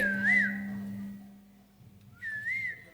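Two sharp, rising-and-falling whistles ring out from a crowd at a live outdoor village folk performance in Tenkasi district, Tamil Nadu. They are separated by a pause over a faint low hum.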